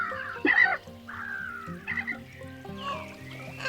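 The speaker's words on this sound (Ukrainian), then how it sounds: "чайка." Seagulls call with several loud, harsh squawking cries spread across a few seconds, near and uneven in rhythm over a tonal background. No one speaks.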